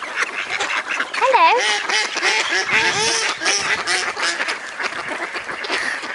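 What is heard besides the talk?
ducks quacking approaching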